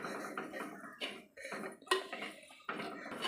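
A spoon scrapes and clatters against a cooking pot as Meen Puli is stirred, coming in uneven bursts of metallic scraping with brief pauses between strokes.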